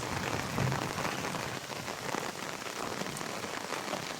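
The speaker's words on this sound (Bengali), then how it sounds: "দেখুন প্রচুর পরিমাণে বৃষ্টি হচ্ছে গাইস" Heavy rain pours down in a garden among rose plants and betel nut palms, a dense, steady roar of drops hitting surfaces, even and unbroken with no voices.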